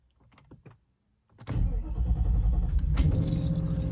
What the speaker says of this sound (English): So let's start this thing up now